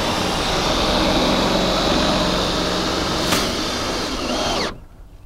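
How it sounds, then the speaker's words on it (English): A screw gun fitted with a socket drives down the manual stabilizer jack on an RV camper, giving a loud, steady, close motor whir that cuts off abruptly just before the end. "I like to use my screw gun with the appropriate size socket on it."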